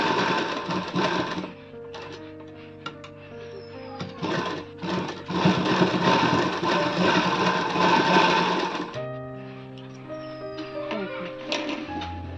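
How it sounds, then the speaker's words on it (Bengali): A sewing machine stitches a princess-cut blouse in long whirring runs that stop and restart, loud and close, with brief quiet gaps between bursts. "চারদিক রাউন্ড করে সেলাই দিতে হবে।"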